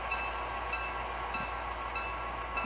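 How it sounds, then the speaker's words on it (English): A model train runs on a model railroad layout, giving a steady, even rolling rumble and hiss throughout with no voices. "Bring our train up to the station"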